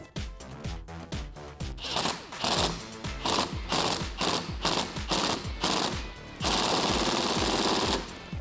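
Ratcheting socket wrench with an 8mm socket tightening a hose clamp on a Jeep Wrangler JL cold air intake, rapid clicking bursts in uneven runs, close and loud.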